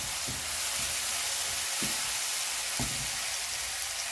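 Onion browning in a pan over lowered heat, a steady soft broadband sizzle with a few faint low pops and stirring knocks, close and alone with no talk.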